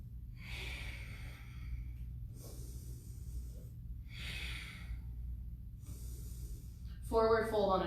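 Deep, slow breaths during a strength yoga flow come in long airy inhales and exhales, about four in a row, close and clear, followed by a short spoken cue at the end.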